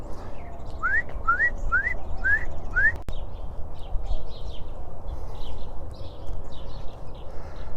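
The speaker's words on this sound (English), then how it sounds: "I don't know if you can hear them, but there's a bird sound." Birds call outdoors during a walk: a quick run of five rising whistled chirps close by, followed by fainter scattered chirps over a low background hum.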